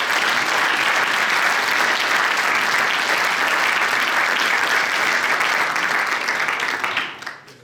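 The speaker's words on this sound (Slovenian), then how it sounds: "Lahko jim damo aplavz, seveda." Applause from the audience at an award ceremony for asphalt and road-building honours, a loud, dense, continuous clapping that runs several seconds before quickly fading out at the end.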